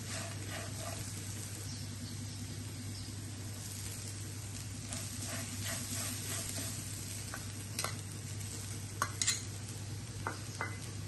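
Raw banana pieces and grated coconut stirred together in a pan, a soft continuous frying hiss with a low hum underneath and several light scrapes and taps of a spoon toward the end.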